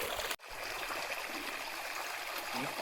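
Water flowing steadily along a small canal outdoors, a continuous close rushing trickle that fills the whole stretch, broken only by a brief dropout near the start.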